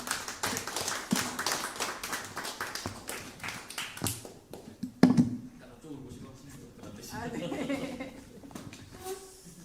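Applause from a church audience welcoming a pastor's wife to the stage: a brisk burst of clapping that thins out over several seconds, followed by a speaking voice and room noise.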